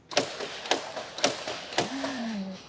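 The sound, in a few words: Mercedes-AMG G63 car door closing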